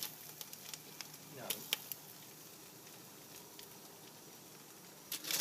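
Bacon and a burger patty sizzle on a hot cooking surface with a faint, steady crackle and hiss, broken by a few sharper pops and taps.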